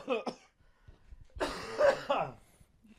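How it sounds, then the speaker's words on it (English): A man coughs hoarsely twice in quick succession, close to the microphone, after a short bit of speech, in a casual indoor setting. "Man, they brought my cough back"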